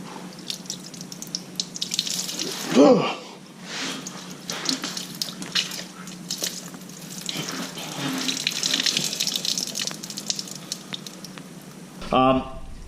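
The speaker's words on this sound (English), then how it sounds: "Currently the torque converter and the transmission pan are draining" Fluid draining from the torque converter and transmission pan of a 48RE-swapped 6.7 Cummins truck, a steady splashing pour that stops abruptly near the end, close and fairly loud.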